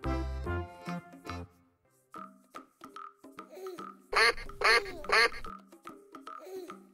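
A duck gives three loud, close quacks in quick succession, following softer tonal sounds and short bursts earlier on.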